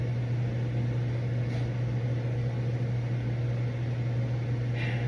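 A faulty air conditioner runs in a kitchen with a steady, droning hum and a low tonal buzz, constant and moderately loud, with no voices over it.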